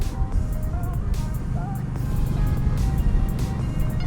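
Steady low rumble of an Indian Scout Bobber motorcycle under way with a solo saddle seat and low suspension, heavy road and wind noise throughout with a rider's voice faintly over it.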